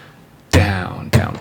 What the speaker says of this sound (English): that strum pattern we're going to be using for nearly all of today's video is going to sound like this with muted strings